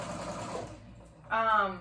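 Domestic sewing machine running a long straight basting stitch on ruffle pant fabric: a brief, loud whirring burst of needle action near the end, following a stretch of quieter talk and handling.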